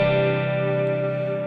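An electric guitar rings out through two stereo reverb pedals, a single sustained chord decaying slowly in a wide, washy tail.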